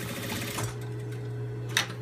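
Sewing machine running steadily as it stitches a tam beret, a close, continuous mechanical hum with one brief louder click near the end.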